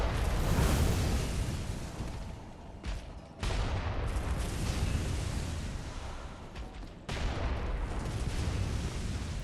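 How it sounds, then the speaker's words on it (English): Booming cannon blasts fired by an enemy in Bloodborne, heavy explosive rumbles with sharp onsets recurring amid dense game noise. "He fires a fucking cannon like it's nothing."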